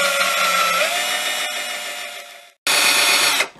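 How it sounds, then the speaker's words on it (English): A drill with a Forstner bit bores an f-hole through thin wood: a loud, steady, high whine for about two and a half seconds, a brief silent cut-off, then a second short burst that winds down. "So now I've got the tip of the Forstner bit in the middle of where this hole is, and I'm going to work this through very gently"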